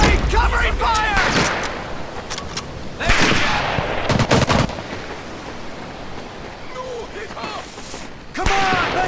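Sustained gunfire in the PC shooter Medal of Honor: Pacific Assault, with dense bursts of shots and loud volleys mixed with shouting voices throughout a chaotic battle.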